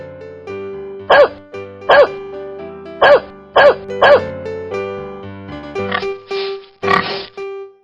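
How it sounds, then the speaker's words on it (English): A dog barks over a steady musical backing, five sharp, evenly spaced barks standing out clearly, followed by a few softer grunting, oink-like calls toward the end. "Dog."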